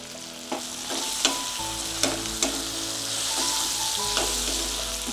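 Bitter gourd frying in a pan with sautéed onion, tomato and garlic: a continuous close sizzle, punctuated by several sharp clinks of a spoon stirring against the pan.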